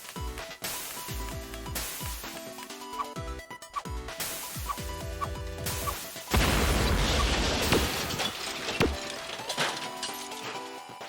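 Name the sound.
explosions in video game Hero Hours Contract 2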